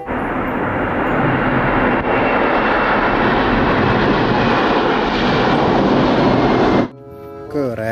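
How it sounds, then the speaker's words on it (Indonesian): Propeller airplane flying, a loud, steady, broadband engine roar held for about seven seconds before cutting off abruptly, followed by brief tonal sounds. "ada pesawat terbang."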